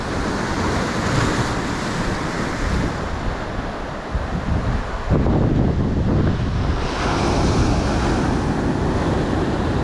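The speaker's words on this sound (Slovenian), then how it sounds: "Mi je pa ful dobro gledati te valove, ki butajo, pa ki se lomijo, penijo." Ocean waves crashing and breaking into foam under strong wind at Wayag in Raja Ampat, Indonesia, a steady loud roar of surf with gusty wind buffeting the microphone throughout.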